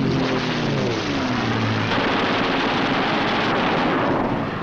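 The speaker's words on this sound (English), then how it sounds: "With the touch of the finger on the stick, a camera and 8 machine guns are put into action" Eight wing-mounted machine guns on a P-51 Mustang fighter rattle in a continuous dense burst, loud and close, layered over a droning aircraft engine for several seconds.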